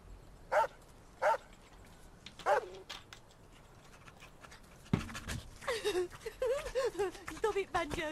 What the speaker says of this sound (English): Stop it, Banjo, you silly dog